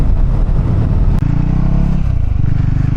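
Motorcycle engine dropping through the gears amid heavy traffic on a road near Vijayawada, loud and close, with a steady engine drone whose pitch steps down as the clutch is pulled and gears change.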